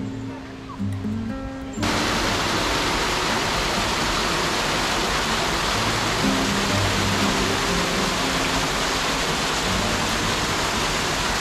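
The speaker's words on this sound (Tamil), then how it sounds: "இங்கே ஒரு வாட்டர் ஃபால் வேறு இருந்துச்சு." A waterfall at the Huntington Gardens in Los Angeles roars in as a dense, continuous rush of falling water, becoming loud and steady after a quieter start.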